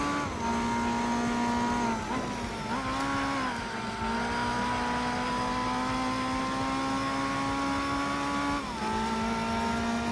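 Race car engines roar continuously in Gran Turismo 4 during a 200-mile endurance race at El Capitan, with steady high-revving tones that dip and climb through gear shifts over ten seconds, close and loud without speech.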